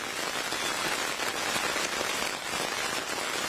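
Heavy rain pours down in Kendrapara, a dense and unbroken roar of drops pounding on surfaces that stays loud and even throughout, with no voices.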